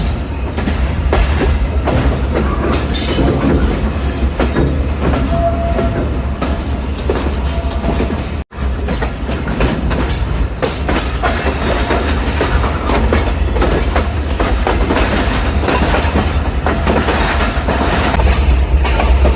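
The Karachi Express rolls into Lahore Junction railway station with a loud, continuous rumble and clickety-clack of wheels, heard very close, with only a brief dip partway through.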